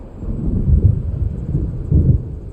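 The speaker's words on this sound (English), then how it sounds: "It seems there's a storm coming." Low, rolling thunder from an approaching storm in the game Alan Wake Remastered, rumbling in soft swells with no voices.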